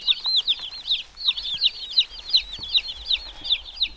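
Chickens on a small farm with newly hatched chicks, a steady run of rapid, fairly loud chirping and clucking calls repeating about three times a second with no talk.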